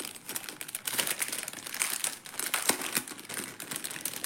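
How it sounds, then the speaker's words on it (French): Plastic packaging bag nested inside another bag being opened, a steady run of close, busy crinkling and rustling for several seconds with no talking. "Ah bon, un sachet dans un sachet."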